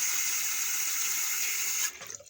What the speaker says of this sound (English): I'm going to turn this water on.